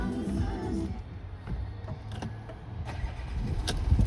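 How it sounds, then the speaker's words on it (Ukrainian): A 2012 Volkswagen Touareg engine cranks and turns over, then settles into a low, steady idle rumble, heard up close with no talking. "Автомобіль заводиться бездоганно"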